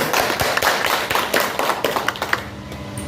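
An audience at a public gathering breaks into scattered applause, a quick run of uneven hand claps that thins out toward the end, heard close and fairly loud without speech over it.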